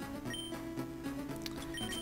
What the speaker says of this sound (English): And I'm going to be buying 50 max repels.